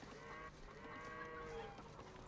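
Cattle moo several times, drawn-out and tonal, at low volume in Age of Empires 2 during a fast castle boom build order.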